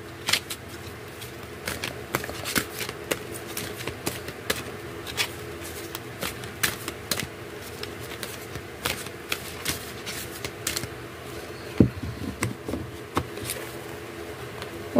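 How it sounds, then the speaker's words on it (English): Large oracle cards are shuffled by hand at close range, giving a steady stream of soft, irregular slaps and riffling clicks that carry on throughout with no talking. "This card is quite big, it's very hard to shuffle."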